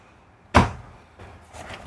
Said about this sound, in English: sliding barn door